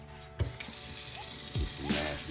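Water runs and splashes as an espresso machine group head and shower screen are rinsed, with a steady hiss of flow and a few sharper splashes and drips, no talk.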